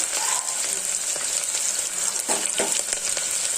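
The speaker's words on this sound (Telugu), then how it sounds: "ఇప్పుడు తరిగి పెట్టుకున్న 3 ఉల్లిపాయలు నూనెలో వేసేస్తున్నాం." Three chopped onions dropped into hot oil, frying with a steady broadband sizzle and crackle throughout, close and fairly loud, with a few brief bursts of louder spattering as they hit the pan.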